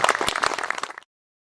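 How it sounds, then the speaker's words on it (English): Brief round of audience clapping at a Daughters of the American Revolution chapter gathering, about a second of close, uneven hand claps that cut off abruptly into silence. "Let's give them a round of applause for all being"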